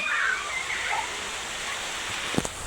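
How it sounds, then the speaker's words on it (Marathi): Rain falls steadily outdoors at a village home, a soft even hiss at low level, with a brief sharp knock near the end. "बघा पाऊस लगेच आला"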